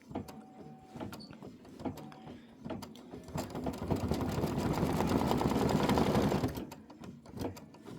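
A computerized embroidery sewing machine stitching the flower detail on a Kimberbell Wallflower quilt block, a steady rapid mechanical whirring that rises in the middle and then stops, with soft clicks before and after.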